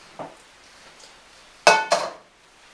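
A wok pan is pulled out and handled in a home kitchen: a faint knock early on, then two sharp metallic clanks close together, close-up and clear with no talking.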